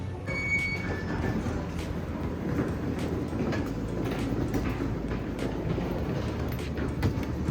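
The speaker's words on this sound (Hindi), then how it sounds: "This is a train station." A train at Amsterdam's railway station, with a steady low rumble of rail cars and wheels plus faint squeals and clicks that carry on without pause, a busy station soundscape with no talk.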